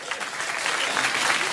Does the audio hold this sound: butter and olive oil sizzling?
no